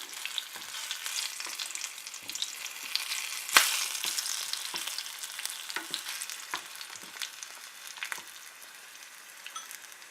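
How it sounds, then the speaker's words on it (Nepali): Green chillies frying in oil with cumin in a pan, a soft continuous sizzle with light crackles and one sharp clatter partway through, close but fairly quiet, no voices. "हरियो खुर्सानी। केही बेर हामी फ्राई हुन दिनेछौँ।"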